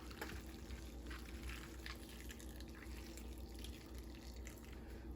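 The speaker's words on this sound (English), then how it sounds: "And then my very, very hot water." Very hot water poured into a pan while cooking a budget Christmas dinner, a faint, steady wash of running liquid that continues evenly throughout with no talk.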